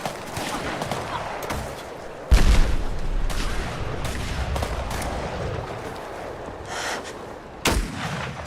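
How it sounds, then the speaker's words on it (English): Cannon blasts and rapid gunfire in the Fallout 4 video game: a dense crackle of shots with two heavy booming cannon hits, one early and one near the end, loud and close. "The cannons are ready. Fire at will."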